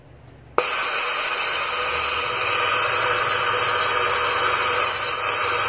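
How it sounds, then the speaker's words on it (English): Compressed air hisses steadily and loudly from a loosely secured hose during a gauge-less engine leak-down test, starting abruptly after a brief quiet moment and continuing without a break. "The little hiss you hear is because I didn't tie the hose down."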